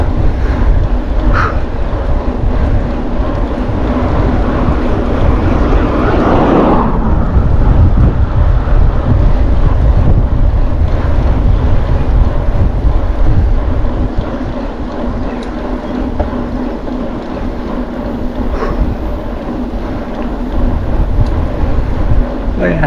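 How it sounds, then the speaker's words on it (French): Strong wind buffets the microphone during a mountain bike ride near Neuilly, a loud continuous roar with gusty surges throughout, and someone speaks intermittently over it. "Ah, le vent il est là, hein, je vous le dis."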